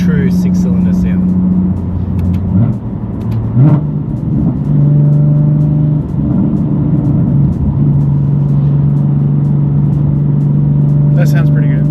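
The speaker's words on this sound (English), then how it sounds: "Now you're hearing, a true 6-cylinder sound." Single turbo BMW F80 M3 straight-six with about 700 hp runs with exhaust valves open, giving a deep, steady drone from inside the car that rises briefly, while people talk over it.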